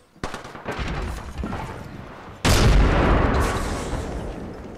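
A frag grenade blast in the shooter game Apex Legends, a heavy loud boom with a long rumbling tail, preceded by a burst of rapid gunfire, no talking.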